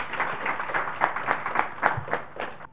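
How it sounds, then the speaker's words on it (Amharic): Audience at a student quiz competition clapping for a contestant, a brief burst of close, uneven handclaps that fades out within a few seconds, no talk over it. "አጨብጭቡላችሁ።"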